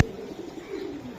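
A female pigeon coos at a pigeon sale, one low, soft, drawn-out call heard up close after a brief sharp onset.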